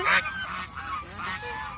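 Several domestic geese on a farm give a series of loud, nasal honks in quick succession, close by, with no talking over them.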